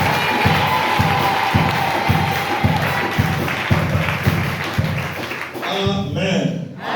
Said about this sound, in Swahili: Kama furaha iko tushangilie Bwana kwa makofi yetu.